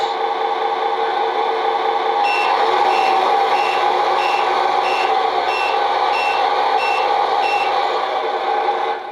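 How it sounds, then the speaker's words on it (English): Reverse beepers on a 1/14 scale Tamiya Scania R470 RC truck sound unit, a loud steady train of evenly spaced electronic beeps over a continuous motor whir, close and alone with no talking. "Yeah, that's the reverse beepers."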